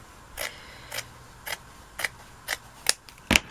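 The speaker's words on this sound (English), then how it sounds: "Not quite, because I have to cut up the side here." Scissors snipping up the side of fabric pieces for a Christmas triangle door stop: seven sharp, evenly spaced cuts about half a second apart, close and clear with no talk.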